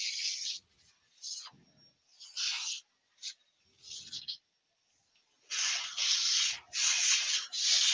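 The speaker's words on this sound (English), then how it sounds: "I'm just tidying up because I don't want to get the shavings in the colours." Wood shavings are brushed and swept off a work surface in quick scratchy strokes, first in short separated bursts, then in a longer steady run of brushing, heard close and quiet.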